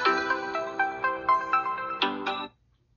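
A Motorola Edge 2024 phone's speaker plays a bright melodic ringtone at full volume, close and loud, with rhythmic repeating notes for about two and a half seconds before cutting to silence.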